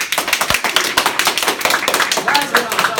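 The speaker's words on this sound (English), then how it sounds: "Come on, let me hear a clap." An audience claps on request at a workshop: a dense burst of many hands clapping together, loud and close, lasting a few seconds with voices mixed in.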